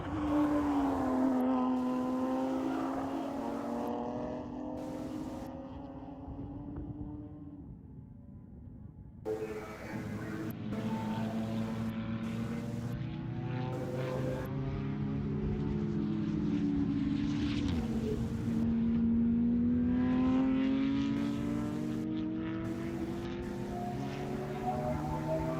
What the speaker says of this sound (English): No, I hear the car noise. Race cars.